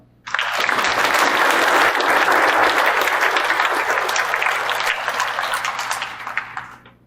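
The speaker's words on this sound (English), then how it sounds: "give them a round of applause" A live crowd at a comedy hypnosis show in Melville, Saskatchewan breaks into loud, sustained applause that starts abruptly, holds strong for several seconds, then gradually tapers off at the end.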